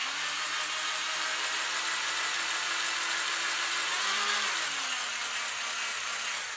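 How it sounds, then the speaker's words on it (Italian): ENKHO professional cordless rotary hammer drill running steadily after its brushes have settled, a continuous close whirring motor hum with a slight pitch dip and recovery near the end, no voices. "Proviamo ora che si sono, diciamo, allineate un attimino le spazzole all'interno del nostro trapano."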